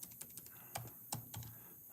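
Sparse keystrokes on a computer keyboard during a live online session, a few quiet taps and clusters of clicks spread over two seconds with no talking.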